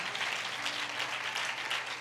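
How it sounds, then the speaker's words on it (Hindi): A church congregation at a prayer service claps in thanks to the Lord, a dense, continuous burst of many hands applauding together, steady and moderately loud. "जोर से ताली बजा के प्रभु का धन्यवाद दें"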